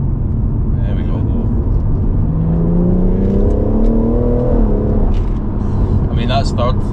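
A BMW M140i launches hard in first gear, its engine note rising steadily in a strained climb before easing off as revs peak, heard from inside the car over a constant low road rumble.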